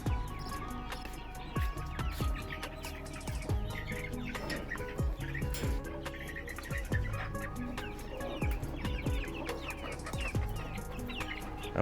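Hill chickens cluck and chirp steadily at feeding time, a busy layered flock with sharp pecking clicks and clatter throughout, fairly close and without talk.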